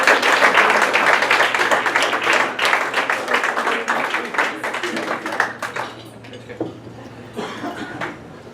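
Applause from a seated audience at a 2017 high school baseball banquet, honoring the players' parents; steady dense clapping for about five seconds that thins and fades into scattered claps and room noise.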